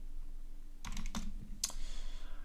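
Short bursts of keystrokes on a computer keyboard as a shortcut name is typed on a Fedora Linux desktop, a few quick clicks after a quiet start, close and clear with no voices.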